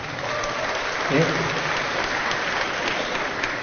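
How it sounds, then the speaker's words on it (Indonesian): An audience applauds Gajah Mada at a talk: a dense, even wash of clapping that holds steady throughout, with a brief spoken word over it. "boleh tepuk tangan buat Gajah Mada"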